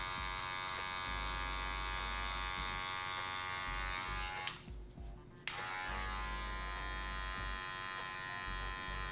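Electric hair clipper buzzing steadily up close while shading a fade haircut, a continuous motor hum that cuts out briefly for about a second before resuming.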